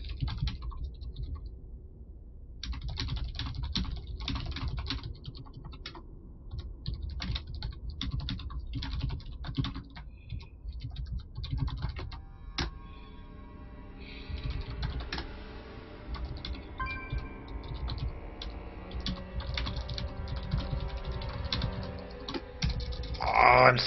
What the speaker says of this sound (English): I'm sucking at typing